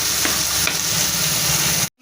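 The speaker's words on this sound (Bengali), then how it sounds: "টমেটো কুচি দিয়ে দেবো, টমেটোটা একটু ভালো করে ভাজা হোক।" Chopped tomatoes frying in a pan for a vegetarian gourd curry, a loud, dense, continuous sizzle with faint stirring, heard alone and cut off abruptly at the end.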